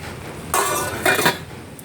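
A lid is set on a pot of mixed vegetables for cooking, making two short metallic clanks about half a second apart, close and clear over a quiet background.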